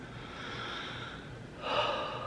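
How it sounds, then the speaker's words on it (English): Slow, deep breaths drawn in and pushed out close to the microphone by a person calming down before a COVID-19 test, with one sharper, louder exhale near the end. "I'm gonna do some deep breathing"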